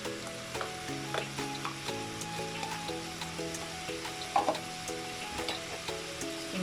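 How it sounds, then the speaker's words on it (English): Chopped onion sizzles in a hot pan for samosa filling, a soft crackling fry heard up close alongside faint tonal background hum and a few small clinks, no talking. "So now we're ready to add our onion."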